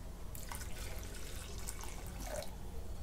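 Hot water pours into a pot of cooked chana dal, a quiet splashing trickle with a few brief gushing bursts, close by and heard alone.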